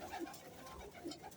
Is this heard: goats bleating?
no